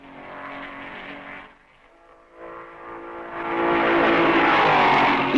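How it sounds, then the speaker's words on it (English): Race cars at the 1955 Belgian Grand Prix, including Maseratis, pass by, an engine drone fading and then rising again into a loud, close roar as a car sweeps past. "2 laps behind the leaders come the Maseratis of Padisa 8th and Rosier 9th."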